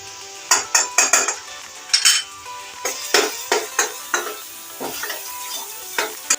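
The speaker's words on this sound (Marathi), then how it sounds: "मिरची लसूण पेस्ट मिक्स करायचं आहे" Chilli garlic paste being mixed in a bowl with a spoon, a rapid series of close, loud scraping and clinking strokes in an uneven rhythm, with no talk.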